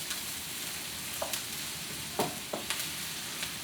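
Onions fry in a wok, giving a soft, steady sizzle close by. A few brief scrapes or stirs break through it, and no one speaks.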